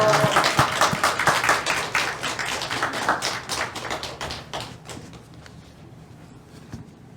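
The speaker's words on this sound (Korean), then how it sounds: "우리 할렐루야 하고 박수 치겠습니다." A church congregation applauds at a Sunday service, dense, loud clapping at the start that thins and fades over several seconds to a few scattered claps, then near silence.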